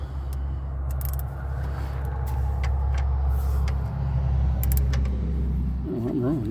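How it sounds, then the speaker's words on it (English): Steady road traffic passes near a 2017 GMC Sierra parked outside for an oil change, a continuous low rumble of car and truck engines with a brief brake hiss and a rising tone near the end. "A little bit of traffic out here today."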